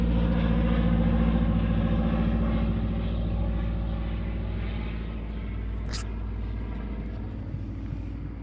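A floatplane flies over a lake in the Temagami wilderness, its engine a steady low droning rumble that slowly fades as it moves off, with a brief bird chirp standing out near the end.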